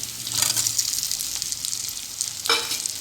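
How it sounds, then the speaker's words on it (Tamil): Okra pieces fry in hot oil with onion and mustard seeds, a steady close sizzle with scraping stirs and a louder burst of crackle near the end. "இந்த வெண்டைக்காய் பீசஸ் வந்து ஒரு 1 நிமிஷம் நல்லா அந்த ஆயிலையே வறுத்து விட்டுடலாம்"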